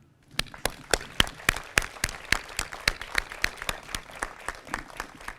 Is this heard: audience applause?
yes